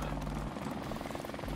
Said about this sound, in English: How long is this helicopter out for?